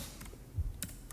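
A handful of soft, quiet key taps on an iPad keyboard, close up with light clicks and a low thump, no voices.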